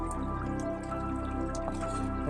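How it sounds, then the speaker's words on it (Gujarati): Rain dripping steadily after two days of continuous village rainfall, a dense patter of close drops over a constant wet background, with no talk. "48 કલાકથી એક ધારો વરસાદ છે"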